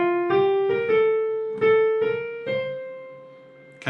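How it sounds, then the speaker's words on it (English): A short piano melody measure embellished with a neighbor tone, played as a few clear, separate notes at a moderate pace, close and fairly quiet with no talking. "if I apply the neighbor tone in there, my first measure sounds like this."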